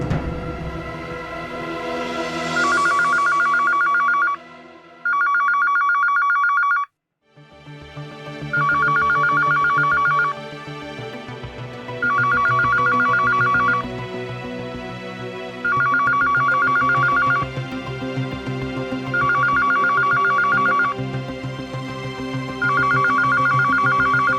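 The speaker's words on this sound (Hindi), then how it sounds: "मैं कब से आपको फोन लगा रहा हूँ, आप फोन क्यों नहीं उठा रही?" A telephone rings in repeated electronic bursts with short pauses between them, loud and close, after a brief stretch of sustained musical tone.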